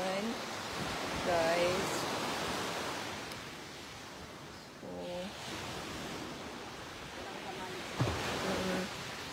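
Sea waves wash onto a beach in Mindanao as a broad, steady surf roar that fills the clip, with someone talking over it in several short bursts.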